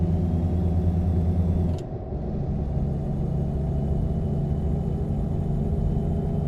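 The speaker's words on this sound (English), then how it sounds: "So what I do is I use this for Jake brake. I pull and it brakes." A truck engine brake in a Volvo driving simulator game runs as a loud, steady droning rumble that abruptly drops in pitch and character partway through, then settles into a lower continuous engine hum.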